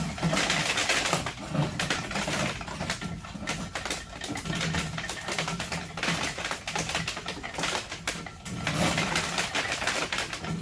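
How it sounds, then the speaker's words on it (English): Continuous rattling and clattering of a hand-cranked corn sheller, kernels pattering and tapping rapidly as the mechanism turns, fairly close and busy throughout. "you would put the corn cob in there and turn the wheel"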